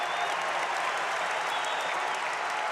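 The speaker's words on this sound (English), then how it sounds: "Day Thomas hyping the crowd up, going down the floor." At an NCAA men's basketball game, a large arena crowd applauds and cheers loudly in a dense, unbroken roar of clapping from start to finish.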